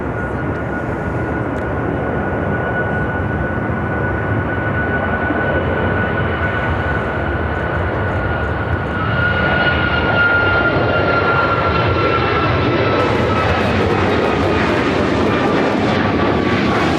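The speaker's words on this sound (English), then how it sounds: "This is United Airlines 1258 taking off to Newark on the MAX 9." United Airlines Boeing 737 MAX 9 jet taking off at Chicago O'Hare, bound for Newark: a loud, steady broadband engine roar with a whining tone that swells midway as the aircraft powers past, continuous throughout with no talk.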